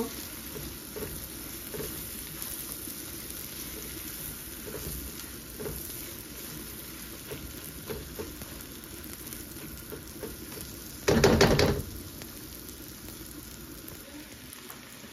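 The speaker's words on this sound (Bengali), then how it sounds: "এই যে পেঁয়াজগুলি ভেজে নিব। একটু লাল লাল করে ভেজে নেব।" Onions fry in a pan until turning reddish, a steady low sizzle running throughout with faint stirring scrapes and one brief louder burst near the end.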